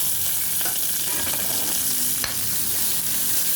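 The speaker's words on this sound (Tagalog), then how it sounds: "Ginisa ko muna guys yung bawang sa mantika bago ko lagyan ng butter" Garlic and chili sizzling hard in hot oil for spicy seafood, a dense, steady crackle close up with a few faint stirring clicks and no voices.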